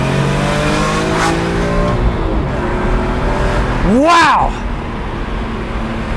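A BMW M3 E46 accelerating on the road, its engine note sweeping up through the gears with a loud rising whine and a sharp surge near the end, while a person exclaims over the engine.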